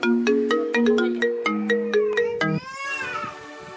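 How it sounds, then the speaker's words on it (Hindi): A melodic phone ringtone plays loudly, a quick run of bright electronic notes repeating in a rhythmic pattern, then a fuller chiming sweep. "चुप रहो, फोन है।"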